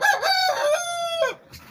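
A rooster crows once, loud and close, a long drawn-out call with no talking over it.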